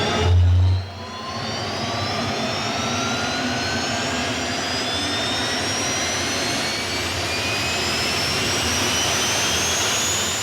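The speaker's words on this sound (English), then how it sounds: "What you're looking at is a J85 jet engine. It's sitting inside a drag racing funny car." A J85 jet engine fires up inside a drag racing funny car, building from a low thump into a loud, sustained roar with a rising whine that climbs steadily in pitch.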